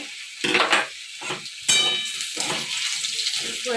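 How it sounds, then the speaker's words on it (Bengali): Round slices of new potato fry in a pan with a steady sizzle, and louder bursts come as they are stirred and turned. Close and moderately loud, with no one talking. "একটু নতুন আলু একটু গোল গোল করে ভাজা করছি"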